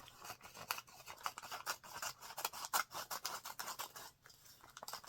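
Scissors snip repeatedly through a crinkly candy wrapper at close range, giving a quick, irregular run of sharp rustling cuts with no talking.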